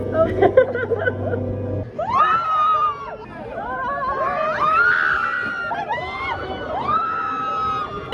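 Riders scream loudly on the Tower of Terror drop ride, a mix of close, high-pitched screams and shrieks over a noisy crowd, rising and falling in several long waves.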